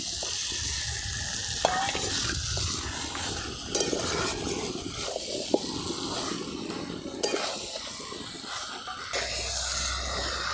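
Mutton and potatoes sizzle and fry in a pan, with a utensil stirring and scraping now and then; no talking.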